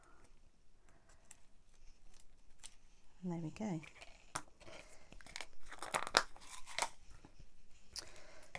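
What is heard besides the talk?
scissors cutting paper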